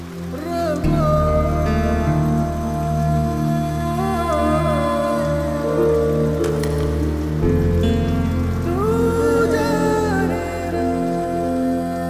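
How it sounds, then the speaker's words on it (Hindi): Steady rain falls throughout, forming a constant wash of drops under a dubbed movie scene that has a sustained musical score with shifting tones layered over it. "चलो, बारिश रुक गई"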